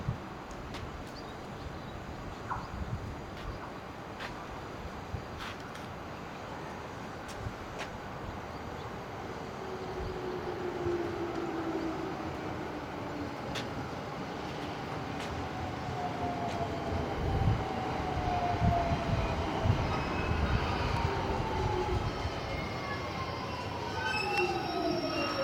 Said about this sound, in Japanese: まもなく2番線に各駅停車東京行きが参ります。